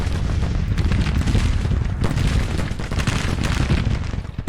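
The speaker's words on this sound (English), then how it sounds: "This one's firing with half its guns." Civil War cannon battery firing in a strategy game, dense overlapping booms and rumbling gunfire rolling continuously, loud and sustained, with no talk.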